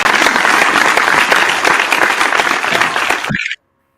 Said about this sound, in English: round of applause for Google